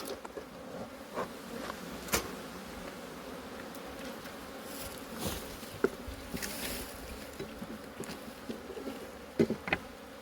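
Honeybees buzzing inside an opened hive on the Aloes during a first inspection, a steady dense hum close by with a few louder passes of individual bees and soft frame knocks.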